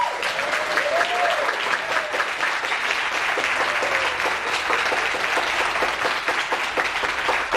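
Sustained applause from an audience at a Brazilian palaeography and diplomatics congress, honouring a professor; steady, dense clapping fills the whole stretch at an even level with no speech over it.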